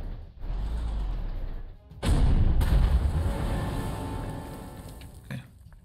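Artillery fire in the strategy game Panzer Corps 2 starts with a low rumble, then a heavy boom hits and leaves a long, decaying roar. A smaller thump follows near the end, and nobody speaks.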